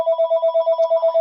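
A telephone rings indoors in a steady, repeating electronic trill, loud and close, with no talk over it.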